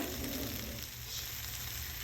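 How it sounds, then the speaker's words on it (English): Kale wilting in a hot pan gives a steady, close sizzle and frying hiss that runs unbroken throughout, with light stirring noise and no voices. "Cook the kale until it is starting to wilt."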